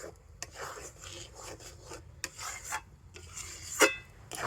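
A spoon scrapes and rubs through a thick sandesh mixture in a pan, quiet irregular rasping strokes with a few sharper clinks against the metal, close by and with no talk.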